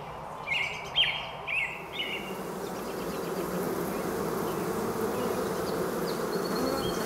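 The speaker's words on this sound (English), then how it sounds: "The flow of honeybees coming to and from the hives of beekeeper Jenny Bubbs is non-stop." Honeybees buzz steadily around beehives in Pemberton, a dense, continuous drone that swells slightly, with a few bird chirps near the start and no talking.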